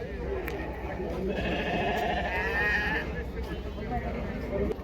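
Sheep and rams bleating in a crowded livestock market, a dense mix of overlapping calls under steady crowd noise and people talking nearby.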